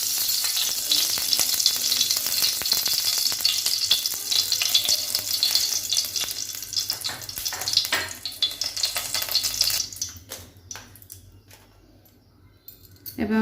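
Oil heating in a kadhai on a gas stove gives a steady loud hiss and sizzle that holds for about ten seconds, then drops away to near quiet with a few faint clicks before rising again.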